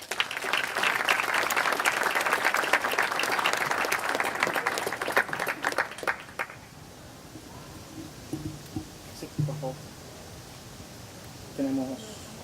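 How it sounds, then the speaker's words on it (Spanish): An audience at a conference gives a strong round of applause that lasts about six seconds, then fades out into quiet room noise with a few scattered voices and movement. "Un fuerte aplauso, por favor."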